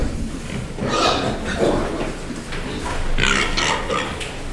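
Breeding pigs grunting and snuffling nearby in a noisy pen, with several rough, irregular grunts over steady background clatter.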